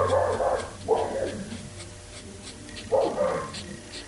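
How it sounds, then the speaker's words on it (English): A dog indoors barks at someone walking past the front window downstairs: two sharp, fairly close barks a couple of seconds apart, with quiet room sound between them. "someone's walking by the front window downstairs as the dog is freaking out"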